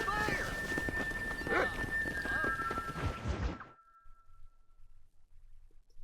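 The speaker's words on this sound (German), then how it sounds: "Genau, wilde Pferde." Wild horses whinnying and neighing in Red Dead Redemption, with a shrill neigh over busy game sound and hoof movement for the first few seconds, then near silence with faint low rumbles.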